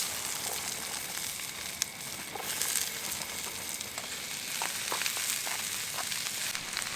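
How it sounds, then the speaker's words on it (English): Peppers and onions sauté in an unwashed fish pan at a wet, rainy island campsite, giving a steady, dense sizzle close by with small pops and crackles scattered through and no voices. "We're going to saute that right in the fish pan"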